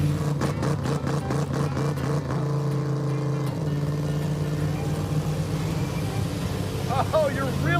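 A race car engine bounces off the rev limiter in a rapid stuttering burst of cuts before settling into a steadier drone, with people talking over it inside the car.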